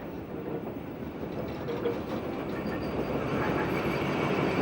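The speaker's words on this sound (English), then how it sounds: "This old loco, being shunted off for scrap, had worked in the Harbin area in the northeast since the 1930s." A first-generation Chinese diesel locomotive shunts an old 1930s steam locomotive from the Harbin area, producing a continuous heavy rail rumble that slowly grows louder.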